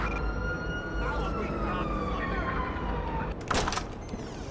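An emergency siren wails in the video game GTA, attributed to an ambulance, its sweeping tones rising and falling for a few seconds, then giving way to a brief louder burst of noise, with faint voice-like sound underneath.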